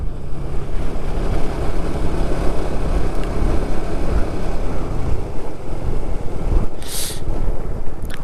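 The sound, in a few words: cold wind blowing on a mountain motorcycle ride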